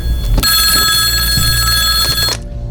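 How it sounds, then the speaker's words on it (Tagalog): A telephone rings loud and close, a continuous electronic trill that runs for about two seconds and cuts off abruptly, with no talk over it. "Kasama ba ni telepono ha?"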